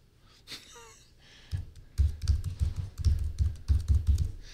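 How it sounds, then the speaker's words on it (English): Fingers type a password on a Chromebook Pixel keyboard, with rapid clusters of soft key clicks and taps close by, starting after a brief quiet moment and continuing steadily to the end. "You can look at me while I type in my password."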